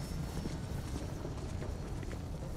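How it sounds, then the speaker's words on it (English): Rapid footsteps thud and clatter in a busy shooter video game, a continuous run of steps over game background noise. "I hear footsteps, that's why I'm standing still."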